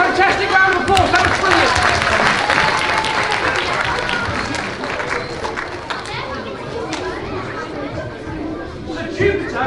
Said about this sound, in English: Can we give her a fantastic round of applause?